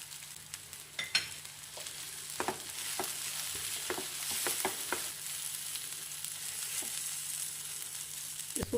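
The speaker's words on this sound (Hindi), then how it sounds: "इसको फैलाते हुए भूनना है ताकि अच्छी तरह भुना जाए।" Green gram with spices stirred and roasted in a pan, a soft steady sizzle punctuated by scattered scraping clicks of a spoon against the pan, close and quiet with no talking.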